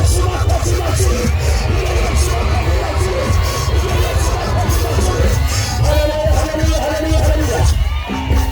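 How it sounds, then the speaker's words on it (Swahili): Church congregation at KLPT Nyakanazi breaking into sustained applause and cheering, a dense, loud wash of clapping and shouting voices that carries on throughout. "Piga Yesu makofi mazuri."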